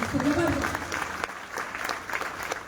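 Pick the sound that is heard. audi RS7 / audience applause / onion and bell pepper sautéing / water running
audience applause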